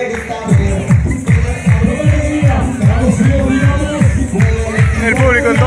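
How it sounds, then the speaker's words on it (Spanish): A carnival parade crowd in Feliciano cheers along, a dense babble of voices over a loud, repetitive drum beat of a comparsa troupe passing by. "El público entonces del corso Feliciano alentando, aplaudiendo esto que es la comparsa"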